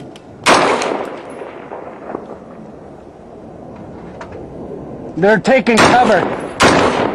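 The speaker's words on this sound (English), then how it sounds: "That's return fire coming back at us." Combat gunfire with return fire coming back at troops: several sharp loud cracks and bursts, one early and a cluster near the end, mixed with talk from men nearby.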